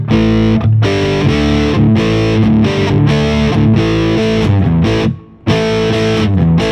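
A Glarry Thinline Telecaster plays heavy, loud distorted riffs through a Fender Mustang LT25 amp on a doom metal preset, thick sustained chords with a brief drop to near-silence before the riff resumes.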